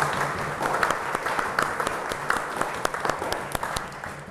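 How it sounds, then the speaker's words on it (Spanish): Congregation applause honoring patron saints at a religious celebration, a dense wash of clapping with a few sharp, distinct claps standing out near the listener. "Entonces, un aplauso también por San Francisco y por San Ignacio."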